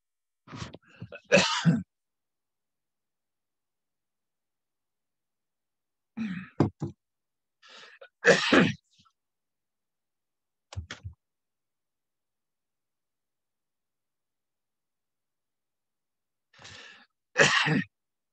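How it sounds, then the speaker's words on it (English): Several short throat-clearing bursts and small vocal noises come in separate spaced clusters, with long quiet gaps between them. "I'm going to take a drink of tea, clear my throat."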